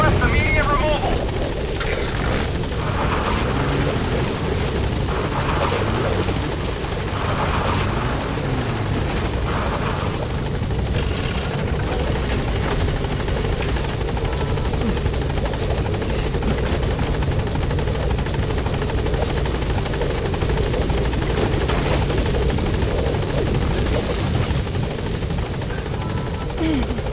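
Loud, continuous rotor thump and engine drone from a helicopter trying to land in the Metal Gear Solid V: The Phantom Pain video game, heard close and under radio-style voices talking.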